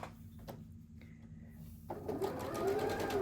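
A sewing machine running a quarter-inch seam around the edge of a pinwheel quilt block, starting up partway through with a soft close hum that grows steadier.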